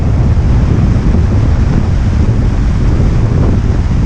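Loud, steady wind buffeting the microphone while an RC 2.4 m Fox glider flies under full-throttle climbs, a dense continuous rumble that stays constant throughout with no talk.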